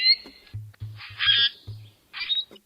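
A common grackle gives harsh, creaky, rusty-gate calls in short squeaky bursts, mixed with low clucking notes, close and clear.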